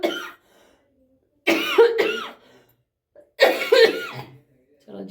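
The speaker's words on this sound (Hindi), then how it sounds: "खांसी उठ रही है मेरे को बहुत ज़्यादा, और गले से ही खांसी हो रही है" A person coughs from the throat in two separate harsh, close bursts, each a cluster of rough hacks with short pauses of quiet between them.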